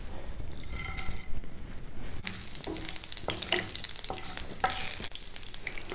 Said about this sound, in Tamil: இப்போ இந்த பக்கம் எண்ணெய் வச்சுருக்கேன் வாணலியில். இதில் தேவையான அளவு கடுகு, உளுத்தம்பருப்பு,